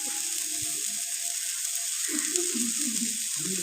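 Crushed garlic sizzles in hot oil in a pan for a Kerala-style tomato fry, giving a steady close frying hiss with brief bursts of crackle, alone with no talk.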